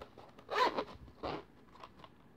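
Zipper on a fabric case for Oakley sunglasses, pulled in two quick close rasps followed by a softer short tug.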